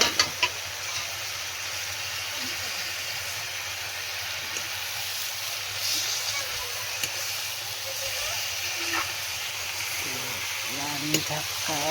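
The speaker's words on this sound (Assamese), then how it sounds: "কচুটো ফাৰ্ষ্ট মানে আৰু অলপ ফ্ৰাই কৰি লওঁ" Taro pieces frying and being stirred in a pan, producing a steady dense hiss of sizzling oil with occasional light scraping and clicks of the utensil, close and continuous with a voice faintly heard.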